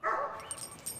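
A dog inside a camper van gives a short yip followed by a couple of faint whimpering squeaks, close by and brief.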